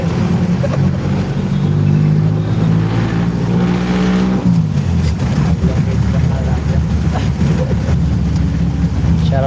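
Engine drone and road rumble fill the cabin of a moving jeepney, a steady tonal hum that shifts pitch midway as the vehicle changes speed, with traffic noise and a voice talking over it.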